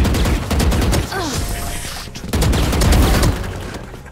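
Gunfire in the tactical shooter Valorant, with loud rapid bursts of shots in two main volleys separated by a brief lull, close and dominant.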